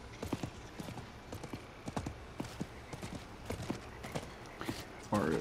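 Horse hooves clop in a steady trotting rhythm in Diablo IV, close and crisp, ending with a brief burst of louder noise.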